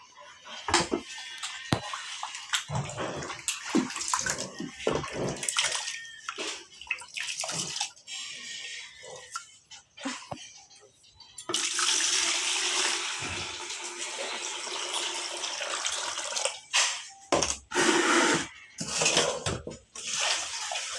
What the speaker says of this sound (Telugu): నేనైతే రెండు సార్లు కడుగుతున్నా బియ్యం